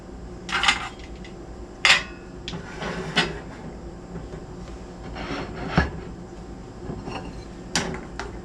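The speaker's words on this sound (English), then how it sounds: "Let's ladle some up." Ladle clinking against a pot while serving homemade tomato bisque soup in a kitchen, with a handful of separate light metallic knocks and scrapes spread across the clip over a low steady background hum.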